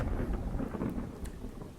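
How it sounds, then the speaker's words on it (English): Deep rolling thunder with steady rain on a stormy night at a castle in the strategy video game Wargroove, a continuous loud rumble filling the whole stretch and easing slightly toward the end. "Did you hear that? Cut it out. It's just thunder."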